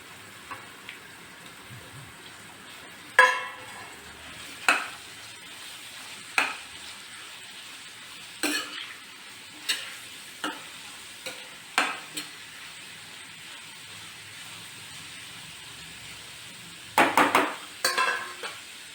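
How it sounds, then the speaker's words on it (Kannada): Chopped onions frying in a pan for egg palya, a soft continuous sizzle broken by a dozen sharp scrapes and clanks of a spatula stirring against the pan, with no voices. "ಆರು ಈರುಳ್ಳಿ ತೊಗೊಂಡಿದ್ದೀನಿ, ಸಣ್ಣ ಕಟ್ ಮಾಡ್ಕೊಂಡು ಇಟ್ಕೊಂಡಿದ್ದೀನಿ. ಹಾಕೋಣ."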